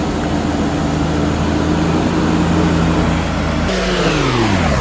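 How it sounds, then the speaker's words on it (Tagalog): A loud engine roars steadily, then abruptly shifts pitch near the end as it revs, with a rough, close mechanical drone throughout. "Matindi pala tong pickup na to at very malakas yung makina."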